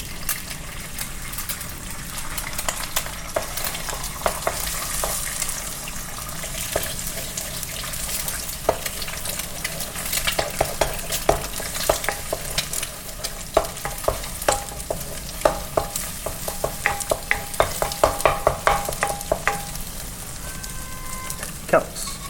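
Eggs fry in a pan for vegetable fried rice under a continuous sizzle, with frequent sharp clicks and scrapes of a spatula stirring them.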